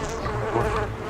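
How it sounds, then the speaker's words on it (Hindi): Close, continuous buzzing of bees, a dense droning hum with no other sounds. "मधुमक्खी।"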